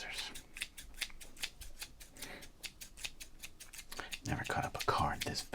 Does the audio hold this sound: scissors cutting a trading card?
yes